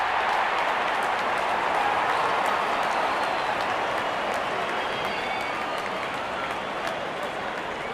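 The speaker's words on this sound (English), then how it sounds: "Out come the openers, cheered by a good crowd in." Crowd noise at a cricket stadium in Real Cricket 22, an India versus Pakistan match at Wankhede, rendered as a steady, dense wash of applause and cheering that holds at an even level throughout with no talk over it.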